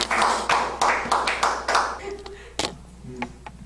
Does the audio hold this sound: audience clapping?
yes